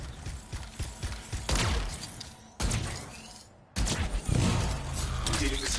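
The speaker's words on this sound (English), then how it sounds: "It'll be a contained explosion." Video game explosion heard as a burst of heavy booms and crashing debris with rattling impacts, loud and close, cutting out briefly and then resuming over continuous game noise.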